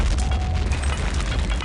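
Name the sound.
grenade explosion in Return to Castle Wolfenstein video game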